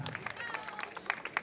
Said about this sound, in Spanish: ¡Venga las palmas para María Claudia!